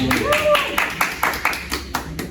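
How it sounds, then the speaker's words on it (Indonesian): Hands clap a few times in a podcast studio, sharp separate strikes spread over two seconds, close to the mic, with people talking at the same time. "Tepuk tangan dulu dong."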